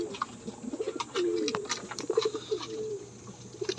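Breeder pigeons cooing while they are fed, several soft throaty coos overlapping among small rustles and flutters, close by and without talk.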